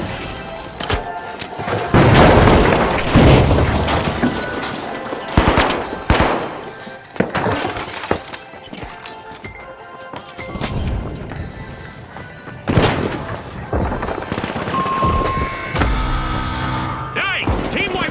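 Frag grenade blasts and bursts of gunfire in the multiplayer shooter The Finals, dense and loud throughout with repeated heavy thumps and rattling fire, mixed with game effects and voices.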